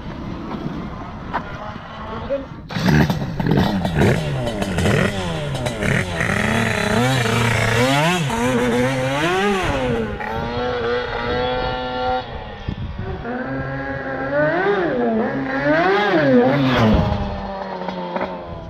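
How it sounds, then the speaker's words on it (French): A 100cc twin-cylinder dragster motorbike engine, only just started, revs up and down in loud rising and falling whines close by, with wind buffeting the microphone and voices mixed in. "le moteur en fait il vient à peine d'être démarré"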